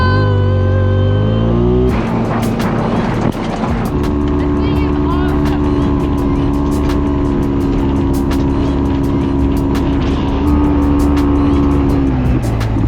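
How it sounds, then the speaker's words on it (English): Steady car engine drone and road noise from a vehicle driving through Joshua trees in desert country near Death Valley, loud and continuous with people talking over it. "We're just driving through Joshua trees."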